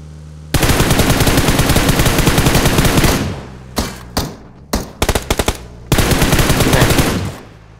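Automatic machine gun fire in a video game: a loud, sustained stream of rapid shots, then several short separated bursts, and finally another long continuous volley that trails off.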